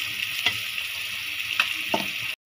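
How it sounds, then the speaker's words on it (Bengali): Spiny gourd frying with onion and green chili in a hot pan, a continuous close sizzle broken by a few sharp clattering stirs and turns, with no talking. "এভাবে আমি উল্টাই পাল্টাই সবগুলি ভেজে নিব।"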